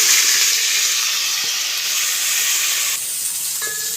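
Blended onion, green chili and garlic paste sizzling in hot oil, a loud continuous hiss that drops a little partway through, close by and with no talking.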